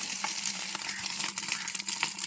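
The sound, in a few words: eggs frying in oil in a pan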